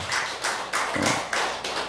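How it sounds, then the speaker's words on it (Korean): A church congregation at a dawn healing revival service claps in a steady, even rhythm, with loud, evenly spaced bursts of hand claps and no talking. "우리 하나님께 영광의 박수."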